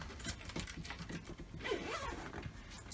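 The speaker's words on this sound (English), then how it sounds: "so let me zip him back up" Zipper drawn along the insulated cover of an Ausranvik 48-quart portable fridge, a close, steady rasping pull lasting a few seconds with small scraping bursts.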